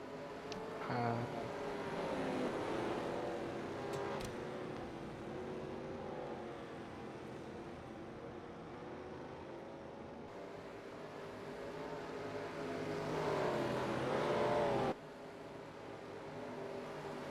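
Race cars in the NASCAR Racing 2003 video game at Daytona run a pace-car lap, a steady drone of engines holding a constant loud level with gentle pitch sweeps, one car audibly rising in pitch near the end.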